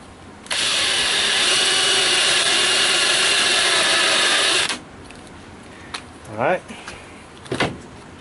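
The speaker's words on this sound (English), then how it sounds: "I have to drill this hole a little bit bigger" Power drill enlarging a hole in a paper towel holder, a loud steady high-pitched whir for about four seconds that cuts off abruptly, followed by a few scattered clicks and handling noises.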